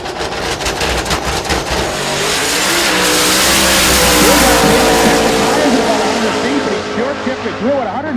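Drag race car making a full-throttle pass down a prepared drag strip, its engine building from a loud, steady roar into a high-revving scream that peaks mid-pass and then fades as it pulls away, with announcer commentary over it.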